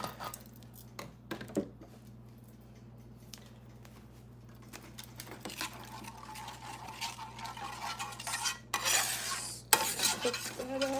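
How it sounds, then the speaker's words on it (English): Food stirred in a pot with a spoon, scraping and clinking against the metal amid a low sizzle, the stirring growing louder and busier toward the end, close and with no talking. "Get that stirred in real quick"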